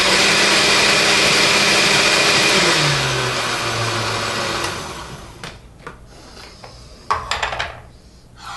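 A kitchen blender runs loud and steady, then its motor pitch drops as the speed setting changes, followed by choppy, uneven whirring bursts and a brief surge near the end, heard alone.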